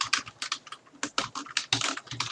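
Quick irregular keystrokes as code is typed on a computer keyboard, close and crisp clicks in uneven bursts with no talking.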